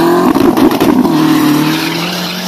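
A drag race car at the Quilpué autodrome strip, a loud, close engine roar with a wavering revving tone that holds steady and eases slightly toward the end, no talk.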